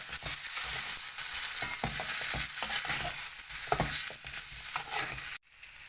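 A garlic, onion and tomato chutney with turmeric is stirred in a pan, giving a continuous sizzle and scraping that stops abruptly near the end.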